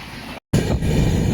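Kovai Express passenger train running from Arakkonam, a steady loud rumble with a brief cut of silence midway, then continuous rolling rail noise close by.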